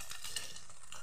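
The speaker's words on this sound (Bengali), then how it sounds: "নাড়তে থাকবো।" A spoon stirs food frying in a pan for chana dal with young jackfruit, giving a short burst of close scraping over a constant sizzle with no talk.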